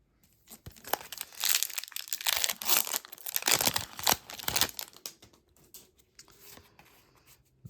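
Lord of the Rings trading card game booster packs from an Ents of Fangorn box are torn open, loud crinkling foil wrappers and ripping in quick bursts, then quieter rustling as cards are handled.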